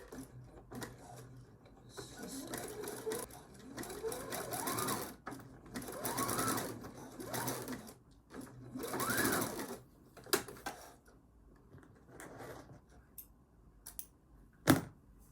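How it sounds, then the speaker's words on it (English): A sewing machine runs close up while stitching lingerie fabric, in several whirring bursts of rapid stitching separated by short stops, with faint handling noises between runs. "I sew it on one side and then I flip it over and then I sew it again."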